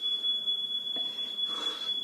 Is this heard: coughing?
no